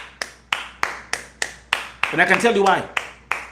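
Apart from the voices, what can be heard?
studio audience clapping for a guest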